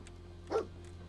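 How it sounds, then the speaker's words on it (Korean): A dog companion in the video game Fallout 4 gives a single short bark midway through, fairly close and moderately loud over a steady low game hum. "아 멍멍해도 계속 얘기 걸어줘야 되네"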